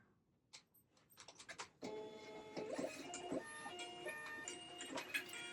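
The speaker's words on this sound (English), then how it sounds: "sent it to the wrong printer." A label printer runs while a UPS Ground Saver shipping label prints, a faint, busy mechanical whir with rapid ticks and clicks that starts after a few soft taps and keeps going steadily to the end.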